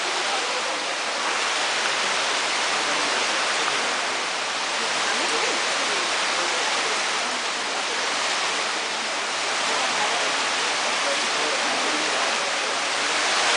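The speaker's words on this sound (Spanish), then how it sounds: "Una cascada vemos ahí" A waterfall pours steadily into a recreated animal habitat in Singapore, a dense, continuous rushing hiss of falling water that stays loud and even throughout with no break.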